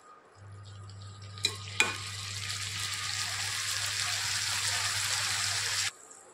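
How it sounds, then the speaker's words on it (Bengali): Banana flower and shrimp stir-fried in a pan, a steady close sizzle with a low hum beneath and two sharp utensil clacks early on, ending abruptly. "মোচা চিংড়ি মাছটা একটু ভালো করে কষে নিতে হবে"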